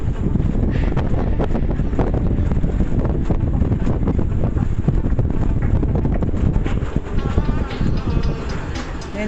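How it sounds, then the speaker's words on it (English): Strong wind from Tropical Storm Elsa, roughly 50 mph, roars steadily into the microphone over a two-foot chop on the water, loud and continuous with gusty buffeting throughout. "I'm going to say 50-mile-an-hour winds, about a 2-foot chop"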